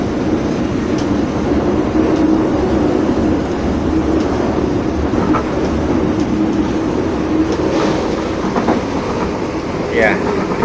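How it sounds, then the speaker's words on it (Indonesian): The Mutiara Timur train on the Banyuwangi–Surabaya route rolls steadily toward Karangasem station, heard from inside a carriage as a continuous rumbling run with faint rail clicks while a station announcement plays over it. "in a few minutes Mutiara Timur train will arrive and stop at Karangasem Station."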